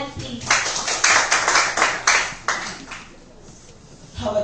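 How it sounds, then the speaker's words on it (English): Grade 10 English class clapping to welcome the next debate speaker, a quick burst of many hands applauding nearby that fades out after a few seconds, with brief voices at the end. "Let's clap our hands, please."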